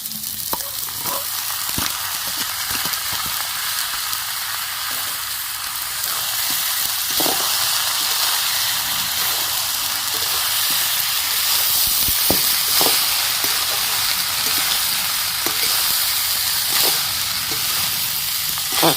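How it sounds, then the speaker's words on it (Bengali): Rice stir-fried with vegetables in a pan for egg fried rice gives a steady, close, loud sizzle with a bright hiss. Occasional sharp scrapes and clicks of stirring break through, and no one speaks. "ভাজা হয়ে গেছে আমার সবজি এবার আমি রাইসগুলো দিয়ে দিচ্ছি"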